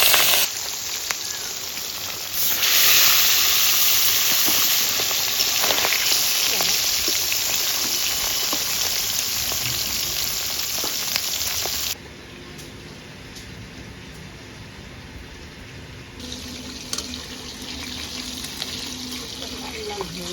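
Fish frying in hot oil in a wok gives a loud, steady hiss that carries on for about twelve seconds, then drops to a quieter, thinner sizzle with a few small crackles.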